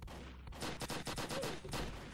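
Bursts of gunfire ring out in a Roblox cops-and-robbers game, a quick string of about eight sharp, evenly spaced shots after a first crack, fairly close and moderately loud, with no talking.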